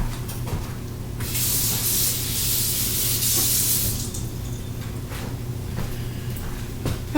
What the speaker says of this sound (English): I just rinsed out the knife I was using.